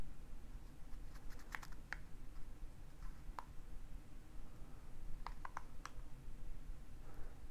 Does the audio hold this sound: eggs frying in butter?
no